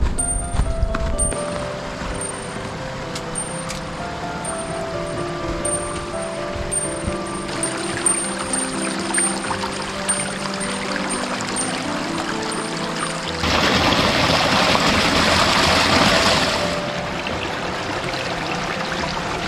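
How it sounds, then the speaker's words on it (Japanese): Water flows and pours steadily from a mountain water source on a snowy peak in Nara, Japan, a continuous close rush that grows louder and brighter partway through. "水の音が聞こえてきましたね。"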